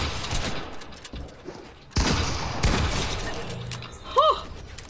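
A loud gunshot cracks in a video game shootout, sharp and close, amid scattered shots and clatter, followed by a short rising and falling tonal chirp.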